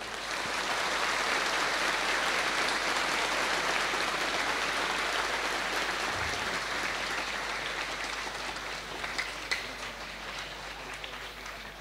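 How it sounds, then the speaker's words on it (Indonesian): Large crowd of Islamic boarding school students at an Indonesian Independence Day gathering applauds a speaker, a steady, dense wash of clapping that continues evenly from start to finish. "Tepuk tangan untuk beliau."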